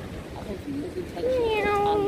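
A cat meows outdoors in Cyprus at Christmas, a rising, wavering cry that begins after a second and holds over a low rushing background, with people talking nearby.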